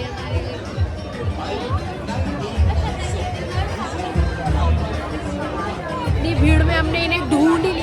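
Dense crowd chatter fills a busy mela, a steady babble of many voices close by with occasional louder swells, with no single voice standing out.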